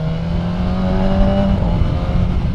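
A 2025 BMW M 1000 R Competition Pack motorcycle's 210 hp engine hums and revs smoothly, rising and falling in pitch, loud and close, with a steady droning tone throughout.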